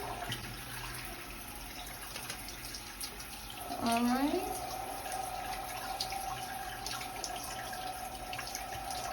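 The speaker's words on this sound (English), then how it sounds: "Remember, we're using warm water. Just gonna rinse this out." Warm tap water runs steadily while hair is rinsed during a wash day, a soft continuous trickle with a faint squeaky tone midway, a short voice speaking over it.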